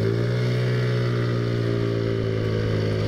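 A Taotao Zummer scooter engine droning steadily while riding down empty roads at night, a close, continuous hum with a constant pitch and no talk.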